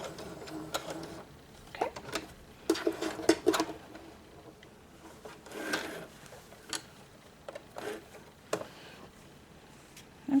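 A sewing machine runs in short bursts while back-stitching the end of a cloth pad, its rapid needle clatter starting and stopping close by, with a brief spoken word near the end.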